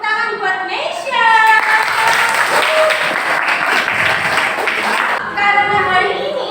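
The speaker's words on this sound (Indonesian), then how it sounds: "tepuk tangan buat Nesya" Applause from a class for a student named Nesya during a Quran recitation lesson on Surah Ash-Shams, a dense clapping burst of several seconds with a voice talking over the start and end.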